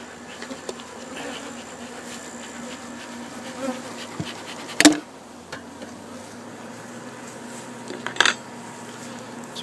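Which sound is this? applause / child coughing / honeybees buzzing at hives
honeybees buzzing at hives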